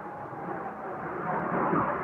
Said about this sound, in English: Oh, it's a plane again.